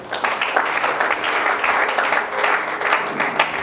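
A church congregation claps together in praise, a dense, steady burst of applause lasting several seconds with uneven peaks, close and loud, and no voices rising above it.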